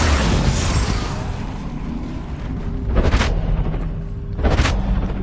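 Bombarda explosion spells in Hogwarts Legacy burst twice as sharp, booming blasts around the three- and four-and-a-half-second marks over a dense, steady bed of game noise, both loud and close.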